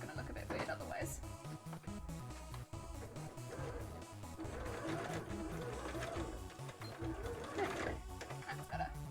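Sewing machine stitching down fabric on a cosplay petticoat, a steady continuous mechanical whir with rhythmic needle pulses running loud throughout, interrupted by brief pauses, with music or other sound layered underneath.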